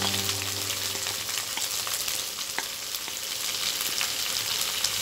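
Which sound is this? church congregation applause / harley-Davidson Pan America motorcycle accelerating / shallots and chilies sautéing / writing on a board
shallots and chilies sautéing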